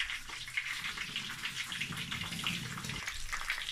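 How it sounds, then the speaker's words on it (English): Water runs steadily from a tap over freshly cut sweet potatoes in a bowl, a continuous close splashing and hiss with no talk. "I'm just going to rinse it."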